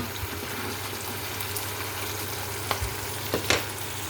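Onions sauté in a pan for squid adobo, giving a soft, continuous sizzle with a few sharper clinks and scrapes of stirring near the end.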